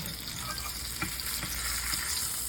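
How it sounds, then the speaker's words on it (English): Pecan crusted tilapia fries in butter in a pan, a soft, steady crackling sizzle with small pops, quiet and close, with no speech. "And it's being fried in butter."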